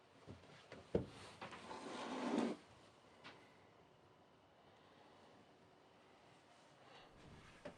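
A sliding, rumbling scrape of a side drawer aboard a Dutch skutsje-tjalk barge being pulled open and pushed shut, a thump, then quiet room tone.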